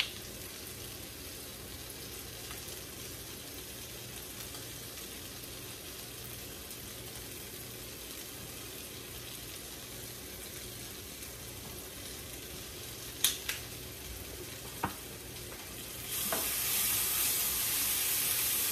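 Peppers and garlic puree sizzle and fry in a pan, a steady close hiss running throughout with a few brief clinks of stirring near the end and a louder burst of sizzle in the final seconds.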